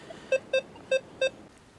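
Metal detector in a park gives four short, clean electronic beeps in a quick uneven rhythm, loud and close against quiet outdoor background.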